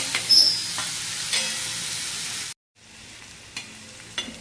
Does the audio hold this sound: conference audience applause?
no